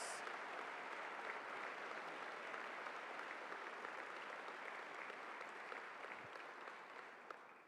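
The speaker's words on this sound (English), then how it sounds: "Give them a big round of applause." Steady applause from a large convocation audience at Cal Poly welcoming new faculty and staff, dense and sustained, heard from a distance in a big hall, tapering slightly toward the end.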